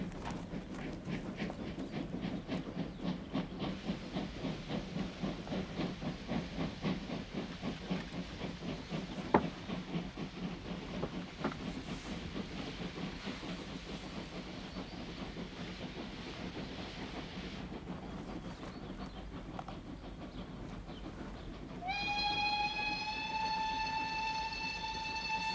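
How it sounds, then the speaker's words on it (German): A train departs from a station in 1982 East Germany, its rhythmic chugging and clickety-clack running steadily and close before fading, with a sustained high whistle-like hiss entering near the end. "der Zug ist weg!"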